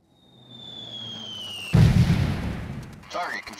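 An artillery fire mission striking in the Delta Force 2 video game: a rising incoming whistle ends in a loud, heavy explosion, followed by rumbling debris and a brief radio-style voice.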